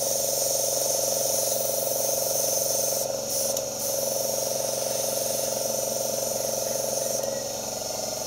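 Steady continuous hiss of an airbrush spraying oil paint thinned with white spirit for rust spots, close and constant with brief dips, under a faint background hum.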